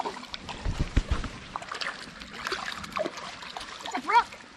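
A hooked brook trout thrashes at the surface of French Creek beside a canoe, giving short uneven splashes and slaps close by while excited voices talk over the commotion.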